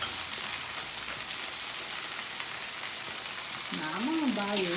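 Drumstick leaves frying in a pan in a village-style kitchen, a soft even crackling sizzle that holds steady, with a voice briefly entering near the end.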